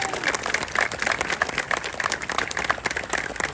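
An audience at a political gathering claps for an assemblyman from Schoharie County, a brief burst of brisk, uneven applause from a moderate crowd.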